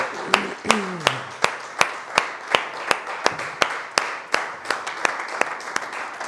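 A church congregation claps in a steady, rhythmic beat during a Spanish-language worship service, with the sharp claps evenly spaced and loud over voices and a sustained background.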